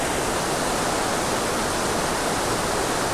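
Iguazu Falls in Argentina roars as a steady, dense wash of broadband water noise, continuous and close, with no breaks or voices over it.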